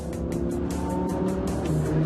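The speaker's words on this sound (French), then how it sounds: "Le V10 atmosphérique." A naturally aspirated V10 in an Audi R8, which revs to 8,700 rpm, roars loudly and continuously at close range with a sustained, slightly rising engine note.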